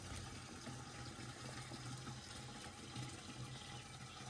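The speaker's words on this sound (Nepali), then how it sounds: "पानी गाडीमा थाप्दै गाडीमा पानी थापेपछि" Water pours steadily into a vehicle's tank outdoors during a rice-planting day, a faint continuous rushing and gurgling stream with a low hum underneath.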